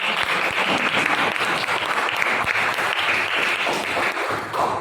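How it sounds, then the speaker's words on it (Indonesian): Class participants in a positive classroom culture lesson applaud together in a dense, steady round of clapping that holds at an even loudness for several seconds. "Terima kasih tepuk tangan untuk kita semuanya."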